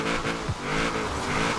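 A Nissan 2000GT-R engine revs steadily and loudly during drifting in Forza Horizon 4, a sustained buzzing drone with a brief tire squeal, no talk over it.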